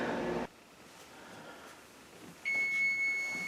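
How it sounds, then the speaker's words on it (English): A kitchen timer goes off while tater tots cook, sounding a steady, moderately loud electronic beep tone near the end over quiet room noise, after an earlier burst of kitchen sound. "the timer's going off telling me that the tater tots are done for the first round"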